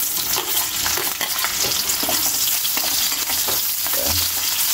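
Onions sautéing in hot oil after the garlic has gone golden, for a home-cooked shrimp and misua dish, with loud, close, continuous sizzling and frequent scraping stirs in the pan and no talk.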